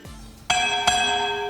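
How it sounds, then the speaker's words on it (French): A bell strikes twice in quick succession, its bright metallic ring sustaining and slowly fading, clear and close with no voices over it. "Vous avez entendu la cloche, un autre épisode du podcast."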